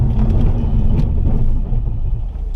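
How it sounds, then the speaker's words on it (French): A 2007 Ford Focus ST braking hard on the road, heard as a steady loud low rumble of engine and tyres that eases slightly toward the end, with no talk over it. "là il n'y a personne derrière, regardez, je vais freiner fort, regardez."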